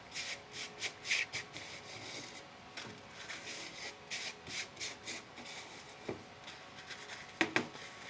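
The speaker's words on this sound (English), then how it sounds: "drop it in my envelope." Seeds are dropped into a paper envelope, giving soft rustling and papery rubbing sounds in irregular small bursts, faint and close, with a couple of sharper crinkles near the end.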